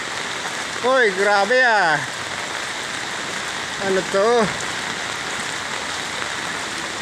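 Heavy rain pours steadily over floodwater in a residential subdivision in Imus, Cavite, a constant dense hiss close by, with a voice speaking briefly over it twice.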